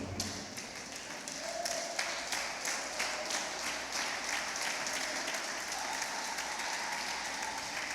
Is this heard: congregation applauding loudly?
yes